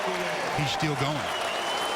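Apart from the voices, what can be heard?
basketball crowd applauding Kobe Bryant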